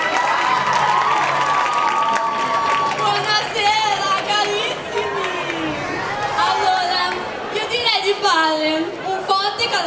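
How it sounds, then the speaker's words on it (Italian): A crowd at an Italian talent-show final claps and cheers for the judges in a loud, continuous wash of applause, with shouts and chatter and an announcer's amplified voice over it. "Un forte caloroso applauso per i nostri giudici"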